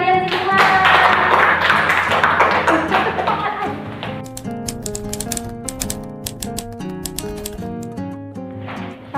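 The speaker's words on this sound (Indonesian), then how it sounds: "Beri tepuk tangan untuk kalian semua." A classroom group bursts into brisk clapping for about four seconds over a light musical backing, then the applause stops and the tune carries on alone.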